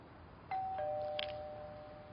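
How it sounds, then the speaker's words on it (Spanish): A doorbell rings in a home, one soft ding-dong with a steady tone hanging on briefly over quiet room noise, heard alone. "me están tocando el timbre"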